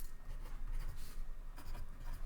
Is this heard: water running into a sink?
no